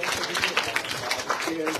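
A church congregation at a Sunday service on Christmas Eve claps for several sisters, a moderate scatter of hands with voices mixed in.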